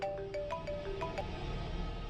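A mobile phone rings with an incoming call, a repeating electronic melody of bright tones heard alone and fairly soft in a quiet room.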